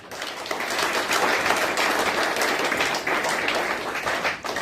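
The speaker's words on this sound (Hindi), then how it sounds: "इन तालियों से काम नहीं चलेगा।" A crowd applauds a speech in a large hall. The clapping is dense and sustained, loud and continuous for several seconds, with no talk over it.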